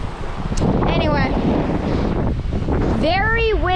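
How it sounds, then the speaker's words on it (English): Strong gusts buffet the microphone with a heavy low roar throughout, while a voice speaks over it, at Harrington Lake in the North Maine Woods. "very windy"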